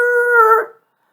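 A voice imitates car tires screeching as a car corners too fast: one sustained, steady, high-pitched squeal lasting about two-thirds of a second, then cutting off into silence.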